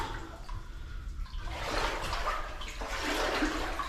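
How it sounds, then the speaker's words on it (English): Water sloshes and swirls continuously, with heavier splashing surges as someone wades knee-deep through cold water in a New Zealand valley, loud and close. "Knee deep in cold water."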